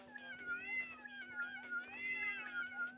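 Cartoon cats in the video game Tasty Planet meow over and over in bright, wavering calls, several overlapping, set over a steady low electronic hum with a faint voice underneath.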